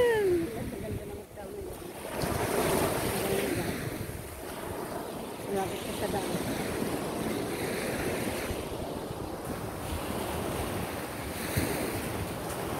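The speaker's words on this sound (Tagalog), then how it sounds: "Ito tayong dagat ngayon." Sea surf on the front beach of a hotel: continuous rushing waves breaking and washing close by, with heavy wind buffeting the microphone and a few faint voices early on.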